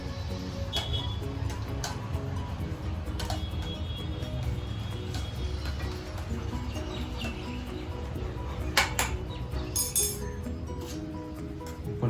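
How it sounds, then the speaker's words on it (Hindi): A spoon mixes Labrador puppy food in a bowl, giving faint, repeated clinks and ticks against the bowl over a low room hum. "पहले इसको मैं इस चम्मच से पूरा मिला लेता हूँ"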